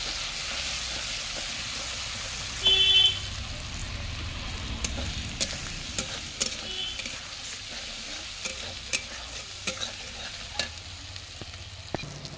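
Onion, ginger and garlic sautéing in a clay pot for chicken, a constant sizzle with scraping strokes of the spoon and scattered sharp clicks, plus a brief tonal beep early on.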